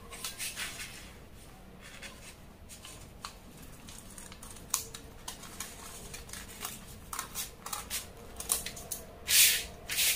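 Scissors cut through fabric for a flare skirt in short close snips and rustles, quiet and irregular, with one brief louder hiss near the end and no talking.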